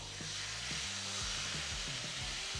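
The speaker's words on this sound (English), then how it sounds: "Ooh, you hear that sear." Tomahawk steak searing on a Blackstone griddle gives a steady, loud broadband sizzle and hiss, with low rumbling thumps underneath as the thick cut settles onto the hot flat-top.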